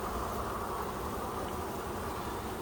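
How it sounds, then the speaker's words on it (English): Honey bees in an opened beehive, a dense steady buzzing hum, faint and continuous with no voices. "A lot of lighter colored bees in here now."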